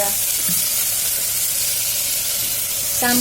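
Leafy greens sizzle and fry in a hot pan as they are stirred and mixed, a steady close hiss lasting throughout with a brief scrape of the spoon near the end.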